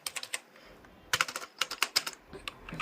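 Computer keyboard keys clatter in quick irregular bursts of crisp clicks, close and alone, as a word is typed into an HTML editor.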